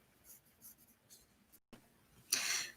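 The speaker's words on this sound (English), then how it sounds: "let's just draw a rectangle here, just to kind of rough sketch of, what rectangle looks like" A pen or marker sketches a rough rectangle during a geometry lesson, heard as faint, close scratchy strokes in short bursts, ending in a longer, louder scrape.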